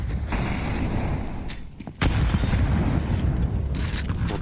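HE grenade blasts and gunfire in a Counter-Strike match, a dense run of booms and cracks that fills the whole stretch, loud and close, with a short dip just before a fresh burst.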